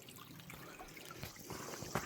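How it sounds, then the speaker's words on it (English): A small ravine stream trickles and burbles steadily nearby on a humid day, a soft continuous wash of water with faint splashes and no voices. "So just following this little stream"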